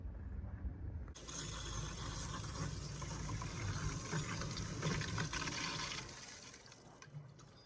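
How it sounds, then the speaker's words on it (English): Water rushes steadily through newly repaired PVC plumbing into a toilet tank as it fills, a broad hissing flow starting abruptly and continuing evenly for several seconds before tapering, fairly quiet and without speech. "I could hear water running to the toilet. I could hear it filling up."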